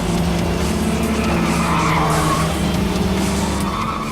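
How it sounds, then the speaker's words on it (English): In the racing video game Little Racers Street, a car drifts with sustained tire squeal layered over a steady engine drone, loud and continuous from start to end. "You can also drift and then you steer with the analog stick."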